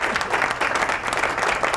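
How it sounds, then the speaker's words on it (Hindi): Studio audience at an Islamic quiz competition applauds a correct answer, a dense, steady wash of clapping filling the short moment at close range. "वाह भाई, तालियां।"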